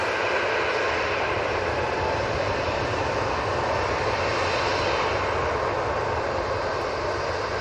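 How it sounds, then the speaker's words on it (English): Jet2 Embraer E2 jet airliner on its takeoff roll at Manchester Airport, a loud continuous roar of engines holding steady and broad throughout, heard alone without talk. "Right, Jet 2 is now on the roll."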